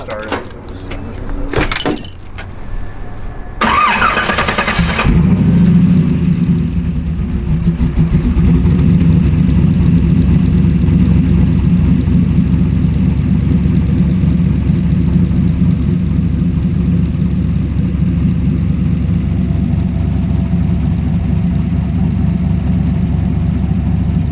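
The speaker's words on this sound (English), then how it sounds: "You want me to just be ready to just run the starter?" A Dodge Durango engine cranks briefly with a few short bursts, then catches and settles into a loud, steady idle with a low rumble that holds for the rest of the stretch.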